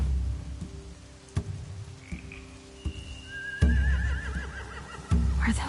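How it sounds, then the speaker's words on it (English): Horses neigh and whinny in a post-apocalyptic Walking Dead video game scene, one drawn-out whinny rising over low ambient drones and scattered thumps, with sharp knocks punctuating the background. "They have horses."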